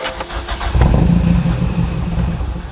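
A car engine cranking on the starter during a compression test, rhythmic chugging up close that catches and settles into a rough, loud idle.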